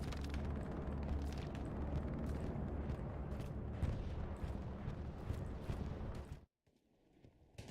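Continuous rumbling explosions from a bombing run in Hell Let Loose roll and overlap in a heavy low roar, then cut abruptly to near silence before a faint return.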